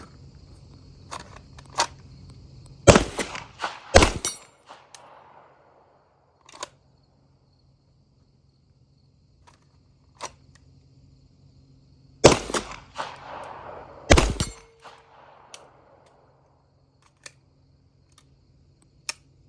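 Handgun shots fired double action at steel targets from 50 yards at an outdoor range: two pairs of sharp, loud cracks, each followed by faint ringing from the steel, separated by long quiet stretches.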